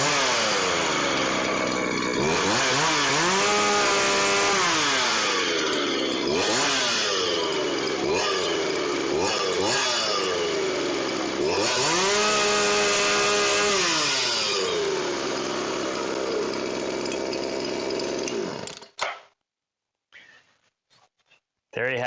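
Ported Poulan 2150 chainsaw fires up and runs loud and close, revving repeatedly with rising and falling pitch sweeps between steady high idle, then cuts off abruptly near the end.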